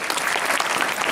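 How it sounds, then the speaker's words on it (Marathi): Dense, steady applause from an audience at a kirtan gathering, filling the whole moment at an even level with no pauses or voices standing out. "ज्यांनी नियोजन केले त्यांच्याकरता एकदा जोरदार टाळी झाली पाहिजे."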